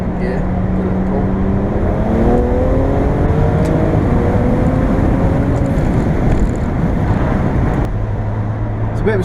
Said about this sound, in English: let's clear road here, second gear, do a little pull